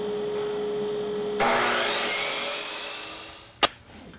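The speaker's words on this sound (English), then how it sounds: "First thing I always do is make a square cut on the end of each board, just so I know that I'm starting with a square end." A power saw squares off the end of a wooden board before tenon joinery, a whining cut that rises abruptly, holds steady and slowly fades, ending with a sharp knock.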